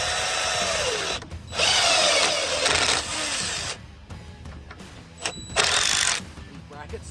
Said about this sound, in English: the only tools that you need for this job is a drill with a Phillips bit